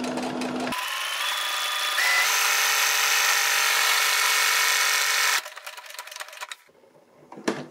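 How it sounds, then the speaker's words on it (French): A domestic sewing machine stitches a buttonhole on a blouse collar band, a steady loud whirring run of several seconds that stops, followed by quieter handling noises. "j'enlève l'épingle et c'est parti pour la boutonnière."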